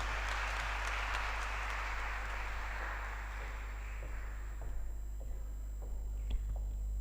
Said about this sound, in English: Another round of applause for our guest of honor as he goes to take his seat.